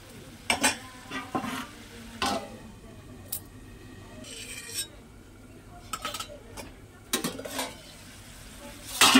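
Potatoes and spices stir-fried in a pan for a tengra fish and potato curry: repeated metal spatula scrapes and clanks against the pan over a low sizzle, with occasional brief speech between strokes.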